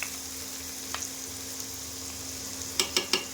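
Two finely chopped onions fry in heated white oil with a soft, steady hiss, punctuated by a few faint clicks and a quick cluster of sharper taps near the end.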